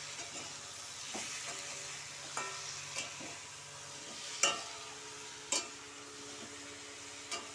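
Chilli, salt and turmeric stirred in a hot cooking pan, a constant sizzle broken by several sharp scraping taps of a spatula at irregular intervals, with no one speaking.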